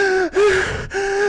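A voice imitates a frightened, tear-streaked girl panting, giving two or three sharp, loud gasping breaths close to the microphone with no other sound.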